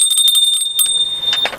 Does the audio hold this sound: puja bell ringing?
yes